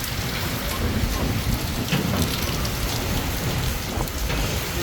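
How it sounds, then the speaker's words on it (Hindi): Heavy stormy rain pours down steadily, a dense, loud wash of drops drumming on surfaces with a deep low rumble underneath, continuous and close throughout. "तो ये इतनी तेज़ बारिश, इतनी तूफ़ानी बारिश हुई है"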